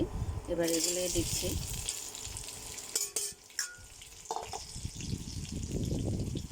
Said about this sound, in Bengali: এবার আমি কড়াইয়ের মধ্যে এই যে কাঁঠালগুলো সিদ্ধ করে রেখেছি